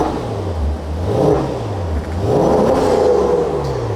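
A Maserati Quattroporte GTS engine revs up and down in two rising and falling sweeps, a close, throaty rumble.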